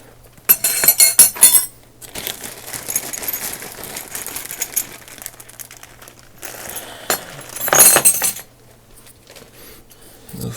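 Metal Snap-on and Craftsman wrenches clink and rattle in bursts as they are lifted out of a tool box, with louder clattering at the start and again near the end, quieter handling in between.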